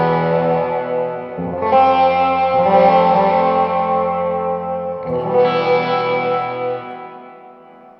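A Danocaster 52 single cut electric guitar plays through a Todd Sharp JOAT 20 amplifier with the bright switch pulled out and the tone raised slightly. It rings out in three sustained, full chords, loud and alone, fading at the end.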